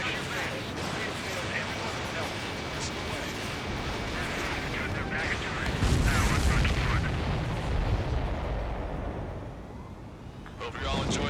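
Explosions and gunfire in the combat flight game Ace Combat 7, a dense rumbling barrage of booms and blasts with a heavy surge midway, mixed under radio-style voices.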